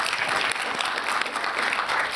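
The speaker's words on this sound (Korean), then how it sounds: "여러분들 박수 부탁드립니다." An audience at a leaders' forum breaks into applause, a thick, steady clapping from many hands held at an even, fairly loud level, with no speech over it.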